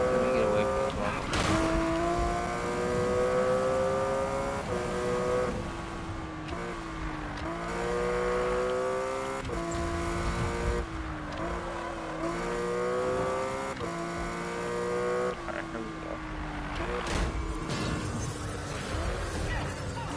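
A Porsche GT3 engine in a video game revs and drones steadily through repeated gear changes, pitch climbing and dropping, with occasional tire squeal and crashes, while a voice talks over it.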